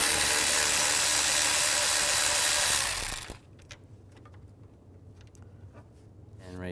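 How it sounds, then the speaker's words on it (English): Rapid buzzing ratchet clicks from a 10mm socket loosening a bolt on a 2013-16 Nissan Sentra during radiator removal, close and loud for about three seconds, then quiet handling sounds and faint clinks. "I'm going to use a 10mm socket"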